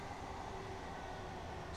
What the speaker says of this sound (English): So train sounds are so loud.